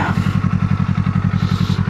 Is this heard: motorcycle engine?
yes